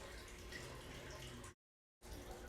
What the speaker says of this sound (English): you can hear the fish tank